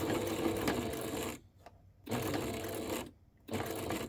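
A sewing machine stitches a Yeti water bottle holder in quick, even bursts of close mechanical whirring. Two brief pauses break up three runs of stitching.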